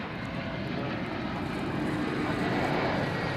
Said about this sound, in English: So here comes another plane from Las Vegas.